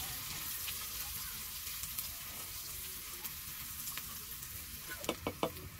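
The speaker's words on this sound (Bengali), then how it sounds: "দিয়ে ভালো করে নেড়ে চেড়ে ভেজে নিতে হবে পেঁয়াজটাকে" Chopped onions fry in oil with whole cumin seeds and bay leaf as they are stirred, a soft, steady sizzle carrying quiet scraping, with a few sharper clinks and scrapes near the end.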